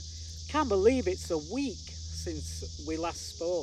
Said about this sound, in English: you may hear the cicadas in the background